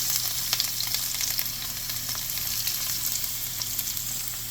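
Chopped onion, garlic and ginger sizzle steadily in hot oil in a pan for chicken paella, a loud, continuous frying hiss with small crackles, heard alone without talk.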